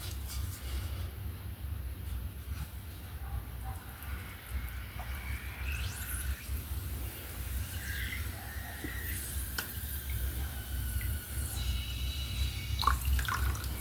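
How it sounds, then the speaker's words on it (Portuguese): Water is poured to rinse pink paint out of a container during a craft project, a soft, continuous trickling and splashing with a few small clinks near the end. "Eu joguei água porque tem tinta cor-de-rosa."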